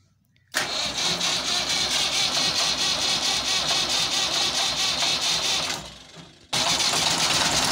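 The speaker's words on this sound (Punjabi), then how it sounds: "ਆ ਭਾਈ ਇੰਜਨ ਸਟਾਰਟ ਹੋ ਗਿਆ" A 135 tractor engine cranks on its self-starter and roars to life abruptly, running loud and steady, cuts briefly, then fires up again.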